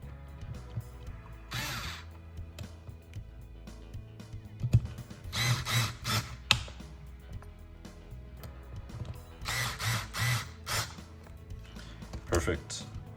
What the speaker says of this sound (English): let the electric screwdriver spin.